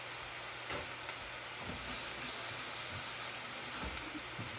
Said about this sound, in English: I take 1 egg and crack it in there, like you see them do at the hibachi place